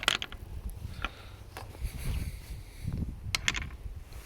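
A homemade spring-loaded two-way gate latch of metal and weld wire is worked by hand, producing close, quiet mechanical clicks, creaks and soft clunks at an uneven pace.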